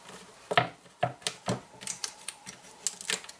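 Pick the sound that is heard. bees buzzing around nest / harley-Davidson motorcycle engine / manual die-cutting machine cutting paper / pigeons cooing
manual die-cutting machine cutting paper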